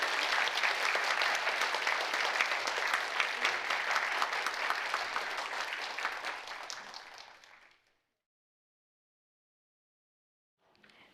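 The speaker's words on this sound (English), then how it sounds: "Let's give a round of applause to the speakers." A conference audience at a Japanese Studies fellow conference applauds the panel speakers in a steady, dense round of clapping that fades out, followed by silence and a faint return of sound at the very end.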